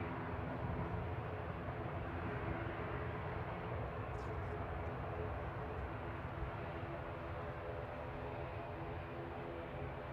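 An ATR 72-600 regional turboprop at Manchester Airport gives a steady, faint droning hum with a constant tonal engine whine, no voices over it.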